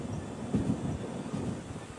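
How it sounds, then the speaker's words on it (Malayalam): The Gomteshwara Express rolls toward Shravanabelagola station on the Bengaluru–Mangaluru line, a low steady rumble of the train in motion with faint rhythmic wheel thumps and some wind noise, fairly quiet throughout. "ശ്രാവണബലഗോള സ്റ്റേഷനിലേക്ക് ഇതാ ട്രെയിൻ എത്തുകയാണ്"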